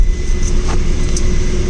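A car engine idling, heard from inside the cabin, a close, steady low rumble with a faint hum running throughout and no talking.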